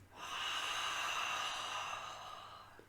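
A long, breathy pranayama exhale through closed lips, like a stifled yawn, rising and fading over about three seconds, close and fairly soft.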